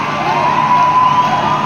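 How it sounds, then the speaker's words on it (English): Kenyan fans cheer from the stands of a stadium during a Nigeria versus Kenya U-20 Africa Cup of Nations football match, a steady, dense crowd roar filling the whole moment without a break. "You can hear the Kenyan fans cheering every positive moment."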